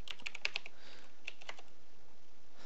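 Someone types a command into a Minecraft server console on a computer keyboard, a quick cluster of clicky keystrokes followed by a few scattered taps over steady background hiss.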